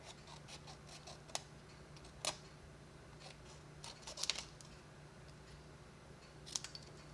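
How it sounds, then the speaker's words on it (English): Scissors fussy cut paper for a handmade card, giving a few quiet, separate snips spaced out over a soft hum, close by with no talking. "then we're just going to fussy cut"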